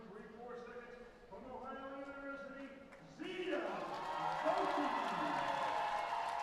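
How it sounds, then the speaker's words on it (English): Crowd at a college swimming championship cheers for swimmer Zita Zoki, a rising burst of applause and cheering from a large pool-deck audience, with an announcer talking over it. "Big cheer for Zita Zoki"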